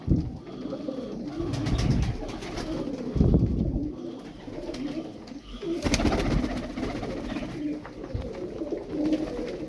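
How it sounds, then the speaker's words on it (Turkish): Pet pigeon cooing up close, repeated soft throaty coos and rumbles in an irregular rhythm, with a few faint rustles and flutters alongside. "Bu kuş çok güzel kuş."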